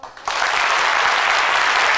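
A French television studio audience breaks into applause, starting abruptly after a brief pause and then holding a dense, steady clapping that stays fairly loud and close to the end.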